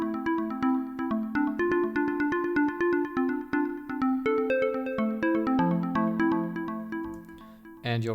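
A bright lead synthesizer plays a busy, stepping melody of short plucked notes over a steady low bass line, with a brief noisy burst near the end, in Ableton.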